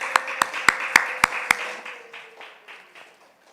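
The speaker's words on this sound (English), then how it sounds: "Clap it up for her, y'all." A few people clap for Mother Johnson at a church youth gathering: six sharp, separate hand claps at a steady beat, then softer scattered clapping that fades out under a faint background tone.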